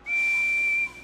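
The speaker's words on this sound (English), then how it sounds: "This is how my whistle sounds." Thomas the Tank Engine's train whistle in the Thomas & Friends: Trouble on the Tracks video game gives one steady, clear, loud toot of just under a second, alone and with no talk.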